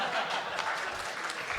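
An audience claps at a Hindi kavi sammelan poetry festival in Hapur, giving faint, distant, continuous applause that is soft and diffuse, with possible murmurs mixed in.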